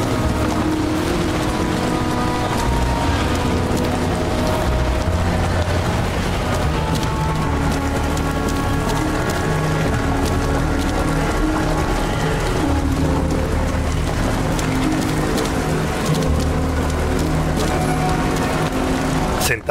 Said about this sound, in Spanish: Siempre lloviendo y no ven el sol.